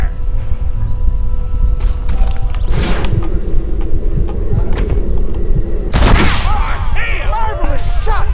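Gunshots ring out in a Red Dead Redemption gunfight on Xbox Series, with a loud report near the middle followed by another sharp burst later, over busy game noise and background voices.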